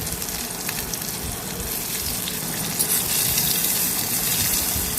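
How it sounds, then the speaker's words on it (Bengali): Black cumin, chopped onion, ginger, garlic, green chillies and dried red chillies frying in hot oil, a steady close sizzle with crackling that swells slightly louder toward the end, no voices. "এগুলো একটু ফ্রাই করে নেব"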